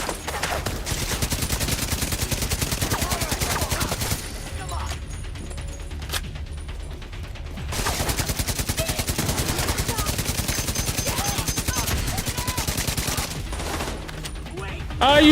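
Rapid automatic gunfire from a switched-to weapon in The Division, a loud sustained burst that drops out for a few seconds, then resumes in a long, steady stream before tapering off.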